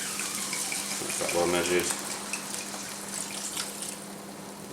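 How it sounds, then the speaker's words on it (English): Cabernet Sauvignon red wine pours over onions in a pot, a steady splashing gush that runs close and continuous, with someone speaking briefly over it. "I'm just going to cover the onions with the wine"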